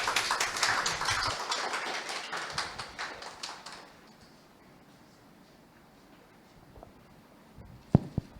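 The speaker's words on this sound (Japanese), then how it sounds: "では拍手でお迎えしたいと思います。" A church youth worship audience claps to welcome a high school student to the front. Brisk, dense clapping lasts about four seconds and then falls away to near silence, with a couple of faint knocks afterward.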